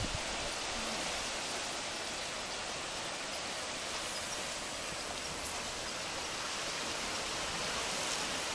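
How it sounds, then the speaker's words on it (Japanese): Ocean waves breaking against the rocky shore at Hachiman cape, a continuous broadband wash of surf that stays steady and fairly faint throughout, with no talking heard. "すごいね、波が当たって、すごい感じだ。"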